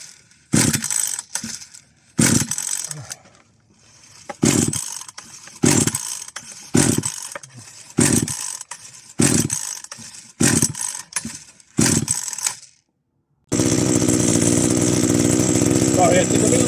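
Stanley 4-in-1 strimmer with a freshly stripped and rebuilt carburettor, on half choke: a series of short pull-start bursts and engine catches, then a steady, loud running drone for the last few seconds.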